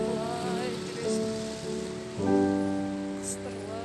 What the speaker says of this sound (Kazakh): жаңбыр құйып тұрған кезде